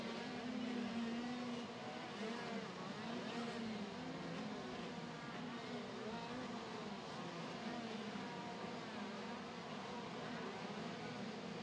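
Pack of KZ2 racing karts at the start of a final at Sarno, Italy, a dense buzzing drone of many engines held at revs, steady and moderately distant throughout.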